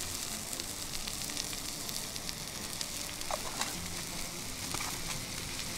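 Oil sizzling in a pan over an outdoor campfire during a bushcraft breakfast, a steady broadband hiss that stays even and close throughout with faint crackles.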